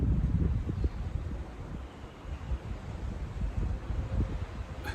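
Steady outdoor wind buffets and gusts across the microphone, a continuous low rumbling rush with rising and falling surges and no voices.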